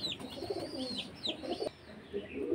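Pakistani golden high-flying pigeons coo at close range in a repeated series of soft, rolling calls, with a little shuffling among them.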